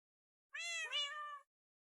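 A single Minecraft cat meows once, a clear harmonic call lasting about a second with a slight rise in the middle, close and alone against silence.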